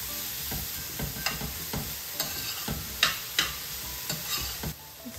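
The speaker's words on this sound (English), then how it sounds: "Into this, I will add the onions" Onions stirred in a pan while cooking coq au vin, with a spoon scraping and clacking in irregular strokes over a soft, steady frying sizzle, close up, with no talking.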